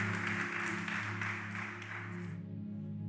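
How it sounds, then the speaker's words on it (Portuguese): A church congregation applauds over sustained instrumental music, a broad wash of clapping that holds steady, then thins and fades as the music carries on. "Dê uma salva de palmas bem forte aí, para a glória de Deus."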